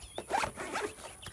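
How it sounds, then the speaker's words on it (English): A zipper is pulled shut on a padded carrying case that holds thermometers and a smoker monitor, giving one continuous, close rasping pull with a few uneven catches and no talking. "zip it up"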